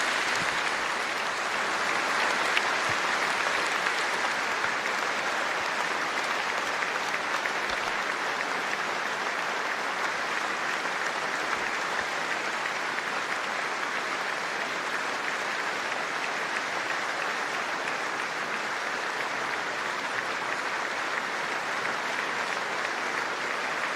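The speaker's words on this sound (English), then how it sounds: "could you give a big round of applause for the names mentioned?" A large crowd at a rugby stadium during a URC Scarlets vs Cardiff match applauds steadily and loudly for the whole stretch, a dense wash of clapping with no pauses.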